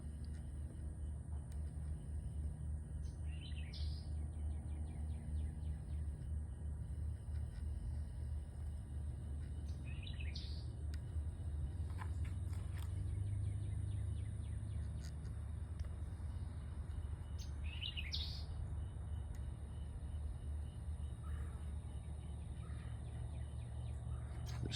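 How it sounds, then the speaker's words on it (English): Birds chirp in brief bursts over a steady outdoor rumble, with a turkey-like gobble and distant traffic in the background. "There's so many birds and so many noises out here"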